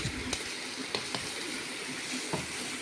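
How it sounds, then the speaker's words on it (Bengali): Hilsa and rohu fish being stir-fried in a pan with spices, tomato and chili, giving a steady, moderately loud sizzle with a few brief clinks and scrapes on top. "মশলা মাছ টমেটো লঙ্কা এখন কষে নিচ্ছি"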